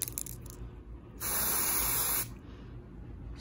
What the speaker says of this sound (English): This is a Lime Crime Unicorn Hair Star Mist, and I'm gonna spray it on this blanket just to show you.